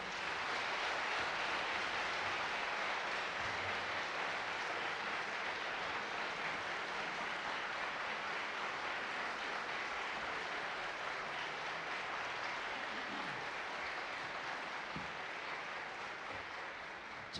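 A concert audience at a folk song (türkü) concert gives long, sustained applause in memory of earthquake victims, a steady, even roar of distant clapping that holds level for the full length with no voices on top.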